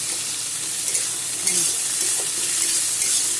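Chopped onion fries in a pan with chili and garlic, a loud even hiss of sizzling oil sustained throughout with faint stirring underneath.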